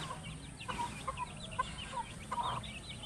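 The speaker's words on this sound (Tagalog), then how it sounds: "mayroon isang inahin na napakaraming sisiw" A hen with a large brood of chicks clucks softly on a farm, with a scatter of high chick peeps in short bursts over a steady low background.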